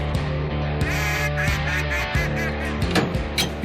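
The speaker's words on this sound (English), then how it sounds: "And a few more decoys to bring in the ducks." Ducks quack and honk among decoys on the water, several calls overlapping in a loud, busy stretch with no talking.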